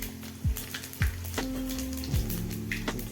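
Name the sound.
bay leaf and panch phoron spices sizzling in hot oil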